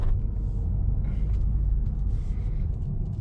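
A 2020 Mercedes-Benz A180 W177 hatchback pulls away and drives, heard from inside the cabin as a low, steady engine and road rumble with faint mechanical sounds layered above.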